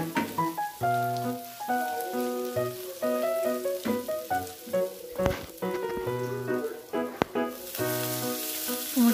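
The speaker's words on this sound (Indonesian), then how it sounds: "Kemudian aku goreng cabai." Chili sizzles steadily frying in hot oil, close up, while a melodic tune plays over the crackling.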